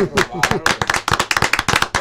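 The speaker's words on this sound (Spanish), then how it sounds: "Un aplauso, para él." A few people clap for a guest in a late-night radio studio, with sharp close claps in quick uneven rhythm and a voice heard at the start.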